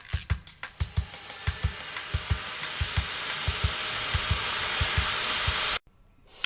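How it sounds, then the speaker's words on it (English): Angle grinder fitted with 40 grit sandpaper bevels damaged fiberglass on a sailboat rudder, a loud close abrasive roar broken by rhythmic bumps as the disc catches, then cutting off abruptly. "this was a good time to get out the grinder with 40 grit paper and open up the bevel on this area of fiberglass"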